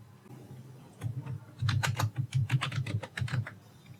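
Someone types TypeScript code on a computer keyboard: a quick, irregular run of close key clicks after a quiet start, with no talking.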